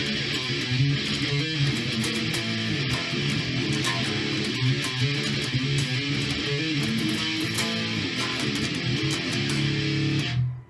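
Electric guitar plays a riff with palm mutes: a dense, distorted, steady chugging riff, loud and continuous before stopping abruptly at the end, no talk.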